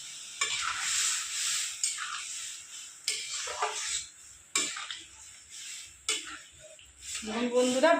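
Masoor lentils go into red-fried onions in a pan and get stirred, making bursts of hissing sizzle and scraping strokes that rise and fade in uneven waves. A clunk of the pot comes near the end.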